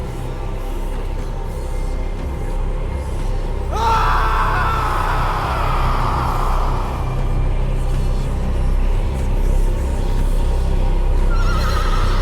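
Horses neigh in a game's finale scene, a loud whinny bursting in partway through over a steady low rumble of background sound, with a further cry near the end.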